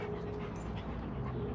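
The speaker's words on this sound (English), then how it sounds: "You know Diesel, but this is our new pup, Henry." A young, very large puppy pants steadily and close by, with quick rhythmic breaths and faint whimpering over low background hum; no one speaks.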